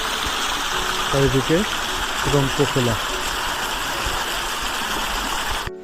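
Continuous broadband roar of a mountain stream's waterfall in Sikkim, pouring steadily and close by, while someone speaks briefly over it in the middle before the water carries on alone.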